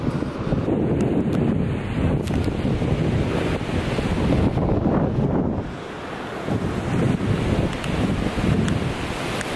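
Ocean surf rolling onto a beach on the Oregon coast at Cannon Beach, a steady loud roar of waves mixed with heavy wind buffeting the microphone throughout, briefly easing midway.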